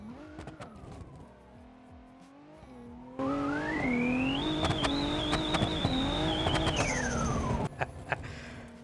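A V6 car in the BeamNG Drive video game, being readied for Pikes Peak, revs and accelerates hard, its engine note climbing and holding high before dropping off, with tire squeal and skidding throughout, close and loud.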